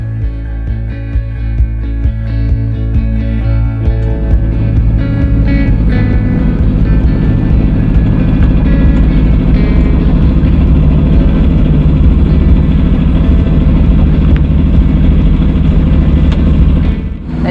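A sailboat's engine runs loud and close with a disintegrating belt, a steady heavy mechanical drone with rattly, uneven texture building after the first few seconds and continuing throughout.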